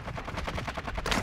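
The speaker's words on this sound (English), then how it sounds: "Mortar strike inbound now." Rapid explosions from a mortar strike killstreak in a Call of Duty match, a dense burst of closely spaced blasts and cracks that are loud and continuous throughout.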